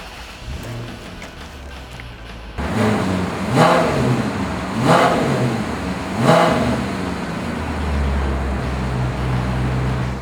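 A 2006 Maserati Quattroporte's engine cranks and catches, then gives three sharp revs that rise and fall through the exhaust before settling into a steady idle, loud and close with no talking.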